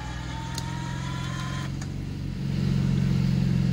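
Off-road vehicle rolling slowly downhill with the brake released on a rough trail, a steady low engine drone and rumble that grows louder near the end, with faint creaks and a high whine over it.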